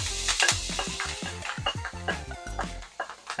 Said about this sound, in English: we're just going to saute these veggies for about a minute